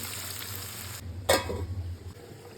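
Hot water poured into a pan of chicken cooking with spices gives a sudden loud hiss and sizzle that flares up and then settles into a softer bubbling over a steady low kitchen hum.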